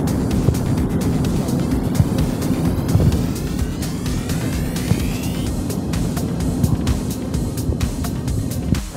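Steady engine drone and airflow hum filling an airliner cabin while boarding before takeoff, broadband and constant throughout, with scattered faint clicks and knocks from passengers settling nearby.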